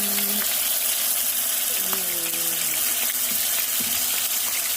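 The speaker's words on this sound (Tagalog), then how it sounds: "papainit ng mantika at magpa-fried" Pork chops frying in hot cooking oil, a continuous sizzle that runs throughout and blends with tonal clinks and a hum from the kitchen.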